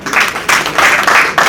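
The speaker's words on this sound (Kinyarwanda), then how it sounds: "reka bagukomera amashyi" Bursts of applause from a crowd at a wedding celebration, three or four loud waves of clapping rising and falling in quick succession.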